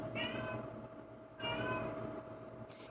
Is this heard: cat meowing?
yes